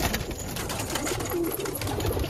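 Fancy-breed pigeons in a fancier's loft cooing, a short low throaty coo heard near and moderately loud amid a busy, rustling background.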